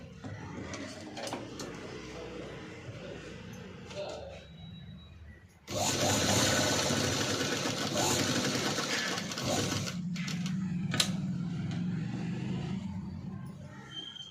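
A sewing machine stitches piping onto a padded blouse, a steady mechanical whir that swells into a louder, faster run midway before settling back to a quieter hum, with a voice speaking at times.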